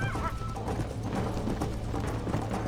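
Galloping hooves of a horse being spurred on in Red Dead Redemption, a steady game-audio clatter with a brief whinny near the start, constant and fairly loud throughout.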